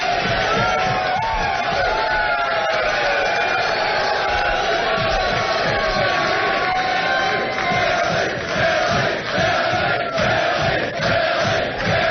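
A fight-night crowd cheering and roaring continuously at a boxing-style event, loud whoops and yells in a dense wall of voices that persists throughout.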